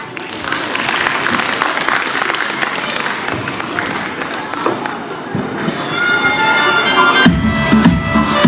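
A crowd at a school annual function claps for the children, a loud, sustained wash of many hands with some cheering and background voices, the clapping swelling toward the end.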